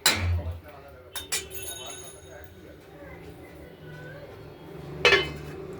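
A metal lid clinks down onto a cooking pot of mustard flower greens, a couple of sharp short clinks near the start and another near the end over quiet kitchen background.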